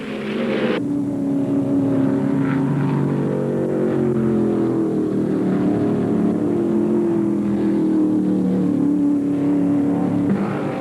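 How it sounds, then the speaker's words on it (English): 1975 NASCAR stock cars, including a Dodge Charger and a Ford, racing at the Atlanta 500: a loud, sustained roar of V8 engines at full throttle, with shifting engine pitch as the pack streams past. "Richard hurls the Charger down the front chute and staves him off."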